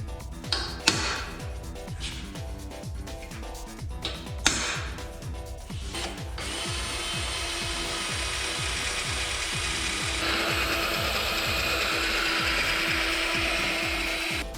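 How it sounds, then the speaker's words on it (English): A power drill drills motor mount holes, first with rapid ratcheting clicks and bursts, then a steady sustained whirring grind that continues for several seconds. "drill that motor mount out"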